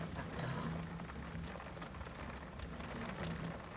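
Rain falling during a summer evening thunderstorm, a continuous broadband hiss of rainfall with a faint low hum underneath and no voices.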